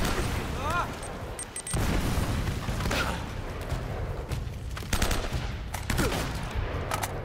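Grenades burst in a firefight in Uncharted: Drake's Fortune, with heavy booms amid rattling gunfire and a continuous din of combat, and a voice briefly heard in the mix.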